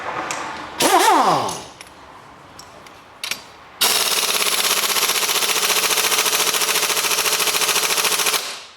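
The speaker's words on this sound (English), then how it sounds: "you do need an air gun for this" An air impact gun tightens the timing belt bolt on a Volkswagen Golf in a garage. A few metallic clanks and a brief burst come first, then a loud, close, rapid hammering rattle runs steadily for about five seconds.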